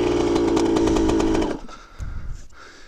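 Two-stroke motorcycle engine running loud and steady at close range with a buzzy, raspy tone, then cutting abruptly to a quieter idle or sputter partway through, after rain.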